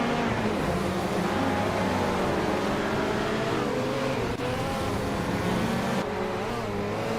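A 1959 Austin Healey 3000 racing in a video game, its engine droning steadily with a shifting pitch as it runs through a lap, continuous and fairly loud throughout.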